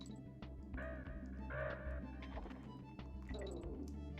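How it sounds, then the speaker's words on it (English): Birds in Donkey Kong Country 2 squawk in short harsh calls over steady game music and sound effects, moderately loud within the mix. "I hate these birds so much."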